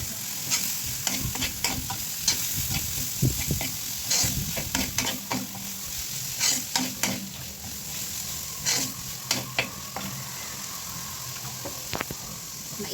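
Carrots and green peas stir-frying with browned garlic in a pan for curry fried rice, giving a steady sizzle broken by repeated scraping stirs and utensil clacks, with faint background noise.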